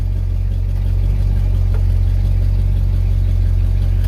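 A 1970 Dodge Charger with a 413 engine and 727 transmission runs loud and close, its deep steady idle rumbling continuously as it is shifted into reverse, with no audible change in rhythm.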